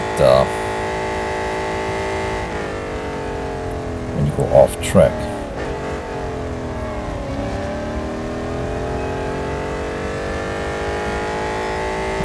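A steady racing car engine drone from the video game Real Racing 3, with shifting pitch, runs throughout, while a voice speaks briefly over it.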